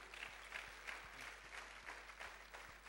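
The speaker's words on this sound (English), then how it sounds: "Let's clap for them." A congregation applauds long-married couples, a faint, distant patter of many hands clapping continuously over a low steady hum.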